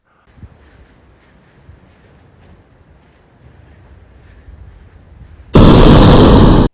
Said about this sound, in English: is when you get the explosion there